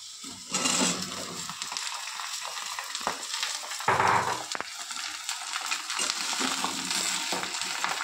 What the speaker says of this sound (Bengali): এবারে ঝিঙেটার সাথে একটু ভেজে নেব